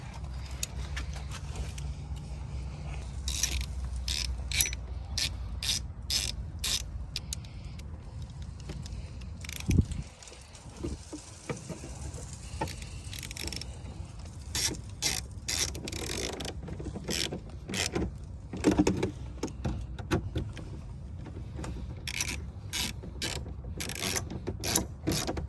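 Rapid ratcheting clicks from a hand tool tightening 7mm bolts on a 2003–2009 Hummer door during a power window motor replacement, coming in repeated bursts with pauses, close and fairly quiet amid light handling noises.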